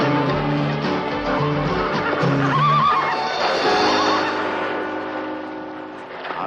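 A horse gives a loud, close whinny on a television talk show; the neigh rises and falls over a few seconds, and faint talk follows.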